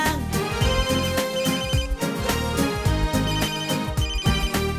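A telephone rings in a comic Neapolitan sketch about a bank robbery, its repeated tonal ringing pattern sounding loud and steady over about five seconds with no talk.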